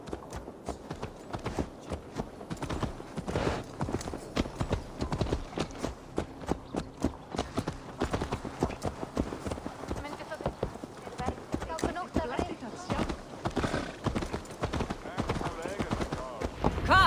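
Horse hooves clip-clop in a steady, fairly loud walking rhythm in the video game Assassin's Creed Valhalla, with character dialogue running over the hoofbeats.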